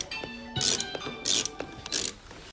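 A screwdriver removes screws from the chain case guard of a 2018 Yamaha Sidewinder snowmobile: small ratcheting clicks and metallic ticks with three short scraping bursts, close and quiet.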